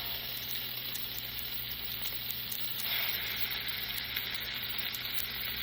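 Supersized meatballs browning in a pan over medium heat give off a steady, close sizzle and frying hiss that grows slightly fuller midway and holds throughout with no talking.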